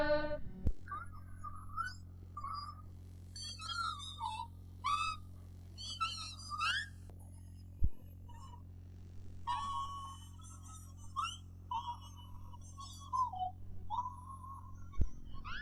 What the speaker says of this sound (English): That eerie whistle sound is made by placing fish scales in their mouths.